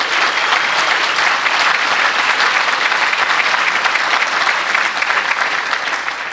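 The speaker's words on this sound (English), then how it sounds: "Big round of applause for Bill." Audience at Maryland's annual environmental summit gives a sustained round of applause, steady dense clapping from a large crowd throughout, loud and continuous with no speech.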